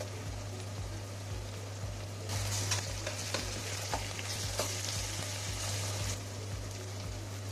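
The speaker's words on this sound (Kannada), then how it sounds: "ಈರುಳ್ಳಿ ರೋಸ್ಟ್ ಆಗಿದೆ. 1 ಸ್ಪೂನಷ್ಟು ಶುಂಠಿ ಬೆಳ್ಳುಳ್ಳಿ ಪೇಸ್ಟ್ ಹಾಕ್ತಾಯಿದ್ದೀನಿ." Ginger garlic paste hits hot oil with roasted onions in a pan, a steady crackling sizzle that swells louder partway through, with a few scraping stirs and a constant low hum beneath.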